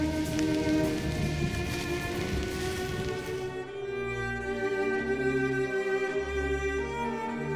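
Rain falling near Vik in Iceland, a soft, steady patter on surfaces, partly under a sustained musical tone, with no voices.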